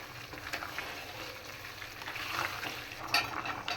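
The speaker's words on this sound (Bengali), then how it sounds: "এখন আমি মাছগুলো দিয়ে দিতেছি" Sholmach (snakehead fish) dropped into thick curry in a frying pan with mixed vegetables gives a steady, moderately loud sizzle, with stirring scrapes and a brief louder burst near the end.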